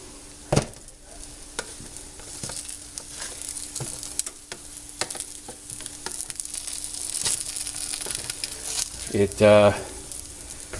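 Buffalo cauliflower pieces being flipped in a hot pan, with steady sizzling and frying, scattered stirring clicks and scrapes, and a louder burst of crackle near the end; no talk.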